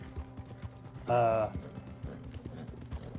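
Horse hooves clip-clop in the video game Red Dead Redemption 2 as a fast, steady patter of soft clicks. A short, loud tonal burst cuts in near the middle, and faint talk sits underneath.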